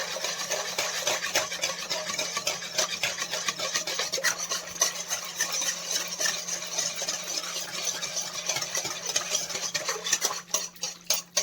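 Semolina cake batter with curd being stirred in a bowl, a continuous scraping, rasping rub of spoon against the vessel in quick repeated strokes, close and fairly loud with no talking.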